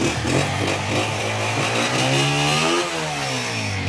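A 2019 Honda 125 motorcycle in genuine condition idles loud and close, its single-cylinder engine thrumming steadily, with a slight dip and recovery in pitch near the end and no talking.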